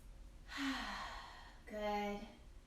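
Slow, deep breaths during a kids' yoga session, a long audible inhale followed by a pause and then a second drawn-out breath, soft and close in a quiet room.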